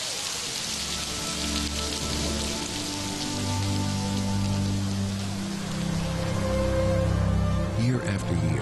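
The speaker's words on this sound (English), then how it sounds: "Year after year, rain lashes down" Heavy rain lashes down on Beijing's historic central axis, a steady broadband hiss of drops on hard surfaces, with low sustained tones running beneath it.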